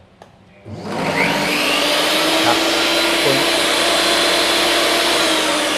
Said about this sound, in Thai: เครื่องดูดฝุ่นก็จะทำงานอยู่ครับ